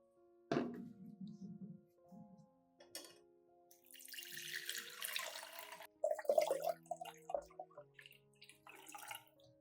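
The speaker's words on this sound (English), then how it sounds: "add 500 milliliters of clean water to dilute the solution" Clean water poured into an orchid rooting solution, a splashing rush of liquid between clunks and knocks of containers, fairly close and moderate in level.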